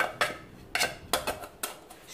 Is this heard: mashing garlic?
yes